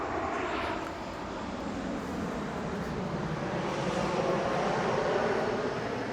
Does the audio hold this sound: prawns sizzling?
no